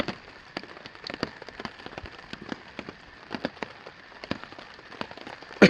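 Rain pattering steadily on a tarp shelter in cedar woods during an August solo trip in the Boundary Waters, with close, irregular drops tapping sharply over a soft continuous hiss.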